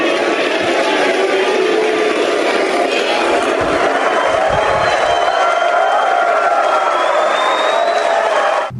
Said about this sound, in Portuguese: Foi aplaudida e vaiada ao mesmo tempo pela plateia.